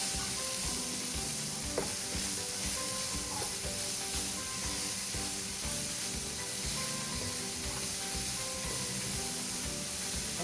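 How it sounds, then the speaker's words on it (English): Jalapenos with mushrooms sizzle steadily in a pan for a steak sandwich, a dense even hiss and crackle with faint stirring scrapes, close and continuous without speech. "give it a stir."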